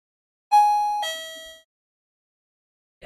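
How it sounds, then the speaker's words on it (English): A two-tone ding-dong doorbell rings once in a quiet house, the high chime followed by a lower tone that fades out, with a faint sound starting at the end. "that's the doorbell"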